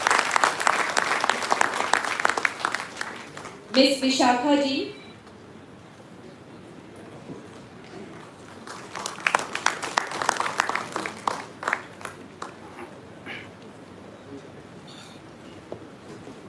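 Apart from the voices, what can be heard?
audience applause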